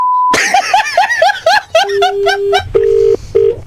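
Rapid electronic phone dialing tones, a burst of beeps followed by steady ringback tones in short on-off pulses, loud and close.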